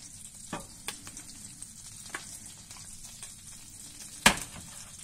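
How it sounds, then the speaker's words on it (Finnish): Butter sizzles in a frying pan with a soft, steady crackle, with a few sharper pops and one louder clack near the end. "Ja sitten mä nyt laitoin tuohon voita tuohon pannulle"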